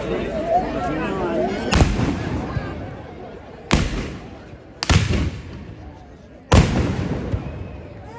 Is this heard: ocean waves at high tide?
no